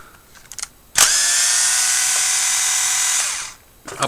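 A power tool drives out the link bolts on a CEN B50 RC truck, running in one steady high whine for about two and a half seconds before winding down, close and loud, with faint clicks before and after.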